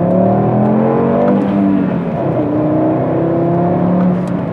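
A Volkswagen Golf MK6's 2.5-liter inline five-cylinder engine revs hard, a loud, continuous rising and falling engine note with layered harmonics, close and steady throughout.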